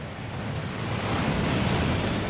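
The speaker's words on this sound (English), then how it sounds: "That waterfall washes away all enchantments" Water crashes down in a waterfall inside the Gringotts vaults in Hogwarts Legacy. The roar is dense, loud and steady and grows slightly stronger toward the end, with no voices.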